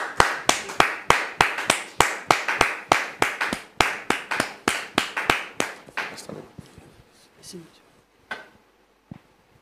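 Audience applause greeting a pastor arriving on stage, a burst of rhythmic, synchronized clapping that stays loud for several seconds, then thins out into a few scattered claps before fading.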